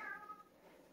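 A house cat gives a short meow, faint and indoors, with a quiet room hum behind it.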